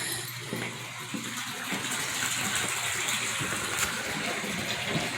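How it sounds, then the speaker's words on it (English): Water gushing steadily into a bathtub from the tap, a continuous broadband rush at close range that holds level for the whole stretch, with no voices. "Right now, I am filling the tub with water in case we have a power outage."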